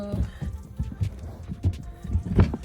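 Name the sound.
horses walking, hooves clip-clopping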